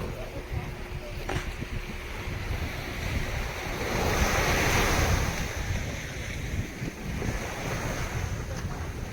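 Ocean waves roll in at Polem beach in Goa, a broad continuous roar of surf that swells midway, with wind buffeting the microphone throughout.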